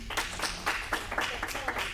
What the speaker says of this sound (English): you're getting some hand claps